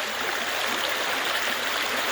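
Overfull creek after a heavy all-day rain, a loud, continuous close rush of water with no other sounds.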